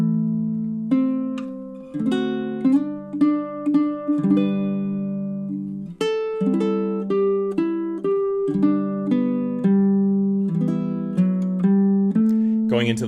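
A baritone ukulele plays a chord-melody arrangement of Danny Boy, with plucked chords ringing out at a slow, steady pace, close and clear with no voice over it.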